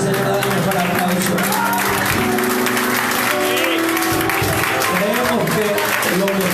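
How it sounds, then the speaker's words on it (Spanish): A church congregation applauds loudly and continuously over sustained music, with shouts and cheering mixed into the dense clapping throughout. "si usted va a darle un aplauso al Señor, dale un mejor aplauso"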